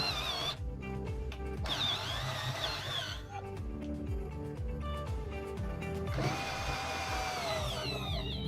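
A Titanium Carbon 12V cordless drill, 3/8-inch chuck, bores with a half-inch four-point Irwin bit, its motor whining steadily up close and straining in bursts with short pauses, over a constant background hum.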